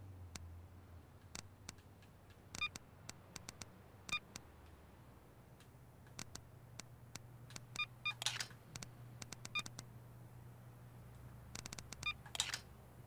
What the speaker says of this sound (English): Slowly rotate the dial until the mirror reaches its peak.